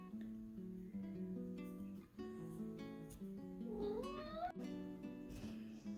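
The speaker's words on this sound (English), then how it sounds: "Yes, kitty cat." A pet cat meows, its rising drawn-out call standing out over a steady tonal background in a room where someone sits crocheting; the meow is moderately faint and brief.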